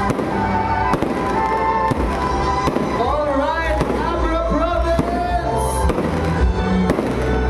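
Fireworks bang repeatedly over a loud, cheering crowd at a lights opening in the plaza of Bangued, Abra, with bursts and crackles continuing throughout while a voice calls out to people nearby.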